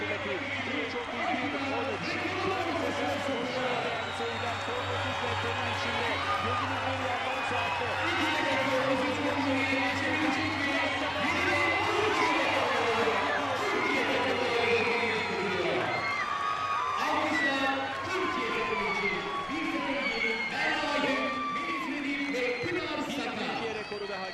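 A stadium crowd cheers and applauds after a women's 4x400 m relay featuring Turkish runners, a broad roar of voices with whoops rising over a steady hum, partly under a commentator's voice.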